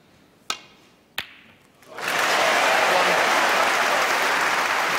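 At a professional snooker semi-final, two crisp ball clicks ring out in the quiet arena, then loud, sustained crowd applause swells up and fills the hall.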